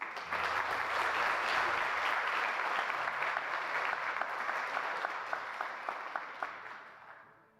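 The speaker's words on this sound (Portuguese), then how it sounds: "Vamos aplaudir o nosso Deus?" A church congregation applauds during a Sunday service sermon, broad sustained clapping that thins into a few separate claps near the end before fading out.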